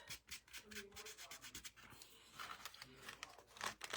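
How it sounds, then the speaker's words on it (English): A handmade mini journal is rubbed briskly to shine it, giving a close, quiet series of rhythmic scrubbing strokes with faint papery friction, interrupted by brief soft murmurs. "give that a little rub. That makes it look good, shines it up."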